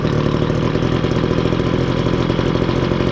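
A brand-new Homelite 2-cycle gas blower/vac engine runs at a steady, loud, rapid buzzing idle close by, with no pauses.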